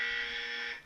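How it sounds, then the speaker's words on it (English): A basic buzzer tone from a phone button app rings out steadily for almost a second, loud and unbroken, then cuts off abruptly. "That's basic buzzer."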